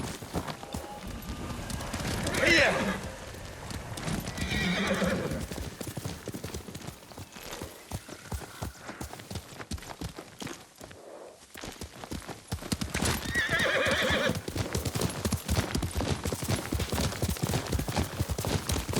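Horse hooves clip-clop steadily through a scene in Ghost of Tsushima, with occasional neighs and whinnies rising over the galloping rhythm, briefly dropping quieter midway before resuming strongly.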